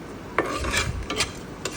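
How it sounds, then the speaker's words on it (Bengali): Light sizzling of dried chilies frying in a pan under brisk stirring, with a few sharp scraping clicks of a utensil against the metal. "তারপর শুকনো মরিচ দিয়ে একটু ভাজা ভাজা করে নেবেন।"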